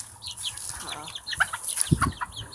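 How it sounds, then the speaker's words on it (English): Backyard chickens clucking on a warm day, a few short, scattered calls at close range over steady outdoor background noise, with no one talking. "here's the chickens"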